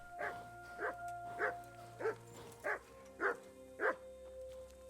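A dog in Kingdom Come: Deliverance barks seven times at an even pace, each bark short and clear over a low steady hum.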